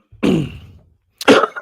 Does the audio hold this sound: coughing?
yes